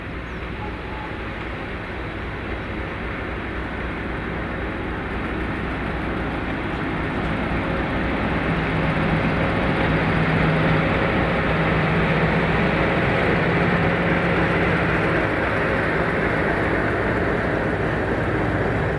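A Class 56 diesel locomotive, 56096, pulls away from its train to begin a run round in Scotland in January, a steady loud engine roar that builds gradually and holds for the full stretch, with no talk.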